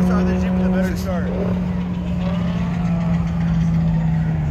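A Jeep Trackhawk and a Mk7 VW GTI race at speed, a steady loud engine drone with a brief rising shift, under a voice talking throughout.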